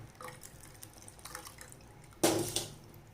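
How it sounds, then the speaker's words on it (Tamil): Cold water is poured over strained sago pearls in a strainer to rinse them, giving a short, close splashing gush after a stretch of near quiet. "இப்போ அதிலே ஒரு டம்ளர் பச்சை தண்ணி ஊற்றி அதை அலசி எடுத்துக்கலாம்."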